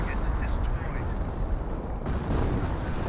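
An artillery barrage in the Company of Heroes video game makes a dense, continuous rumble of distant blasts and gunfire, heavy and steady throughout with no clear breaks.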